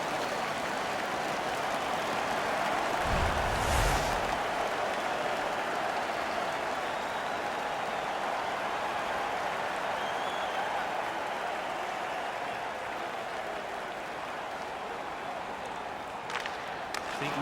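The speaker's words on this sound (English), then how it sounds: "The home crowd is ecstatic. They're making all kinds of noise." A large indoor crowd at an ice hockey arena in a video game roars and cheers steadily throughout, a dense wash of noise with a brief louder burst early on.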